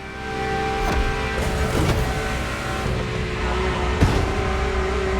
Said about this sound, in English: The car's voice sounds even better from inside.